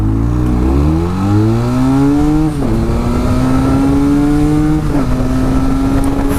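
A Benelli Leoncino motorcycle, a 48 horsepower A2-class bike, at full throttle on a test track, its engine note loud and close, climbing steadily through the gears with short dips at each shift.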